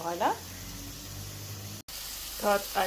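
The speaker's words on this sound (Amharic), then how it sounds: "ሽንኩርት እናቆላላለን እንደዚህ" Onions fry in a pan with a steady broad sizzle that carries right through, while a voice talks over it in short bursts.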